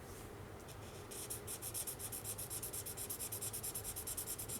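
An Ohuhu fine felt-tip marker scratches rhythmic test strokes across a small scrap of paper, close and steady, a fast regular back-and-forth rubbing that starts after a second of quiet.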